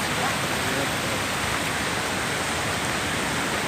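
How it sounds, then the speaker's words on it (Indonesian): A swift, deep mountain river near a waterfall on Mount Parentas rushes loudly and steadily, a dense broadband roar filling the whole stretch without pause. "Sungainya sangat deras banget ini bos."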